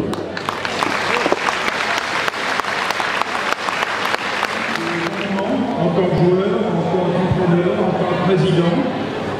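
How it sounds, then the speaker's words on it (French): Loud crowd applause at a football club's 50th anniversary celebration in a hall, dense clapping that softens midway as voices and talk rise underneath. "je vous demande de les applaudir"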